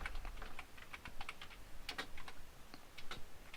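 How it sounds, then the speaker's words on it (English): Fingers type on a computer keyboard in quick irregular bursts of clicking keystrokes, close and fairly quiet, with brief pauses and no talk. "I am going to type in another keyboard shortcuts"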